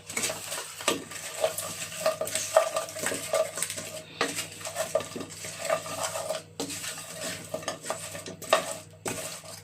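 Fried beef is stirred into tomato sauce in a pot, with repeated scraping and clinking strokes of a spoon against the metal over a soft, steady sizzle.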